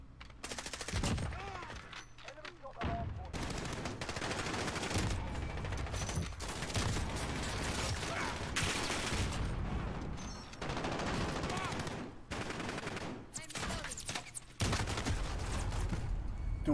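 Near-constant video game gunfire, with rapid automatic bursts and single cracks crowding one another across the whole stretch and pausing only briefly, loud and close, with a voice talking over the shooting at times.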